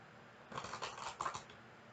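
A deck of tarot cards gets a quick riffle shuffle, a short crisp flutter of about a second, close and soft against quiet background.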